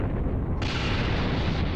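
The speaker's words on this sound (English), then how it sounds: "You were afraid of being caught in the explosion." A big explosion erupts in the video game Dragon Ball Xenoverse 2, a dense roaring blast that stays loud and sustained, swelling brighter partway through, with no voices.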